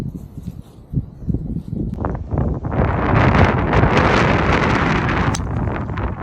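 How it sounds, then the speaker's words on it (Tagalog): Strong wind roars across the microphone on a golf course, building from gusty rumbling into a loud, sustained blast. "Lakas ng hangin, pare."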